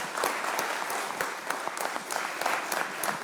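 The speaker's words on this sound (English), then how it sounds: "How about a round of applause for Brett?" Applause at a Weatherford city council meeting, with moderately sized clapping from a room of attendees; individual claps stand out sharply in an uneven, lively patter at moderate distance.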